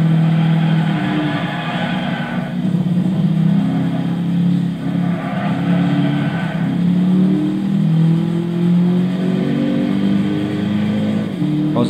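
A Chevrolet Camaro SS with a 6.2 V8 in Gran Turismo 6, heard from the cockpit, drones loudly and steadily with rising and falling engine pitch across the whole stretch, without any talk.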